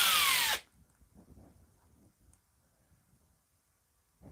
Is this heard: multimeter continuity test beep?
no